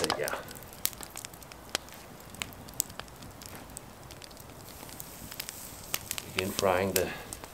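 Meat sizzling and crackling steadily over wood-fire embers, with sharp pops throughout. Near the end a voice is briefly heard over the frying.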